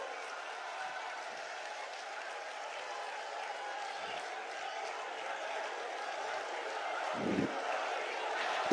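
Sustained applause from a large crowd at a political speech, steady and fairly distant, filling the whole stretch with a continuous wash of clapping and a brief louder swell near the end.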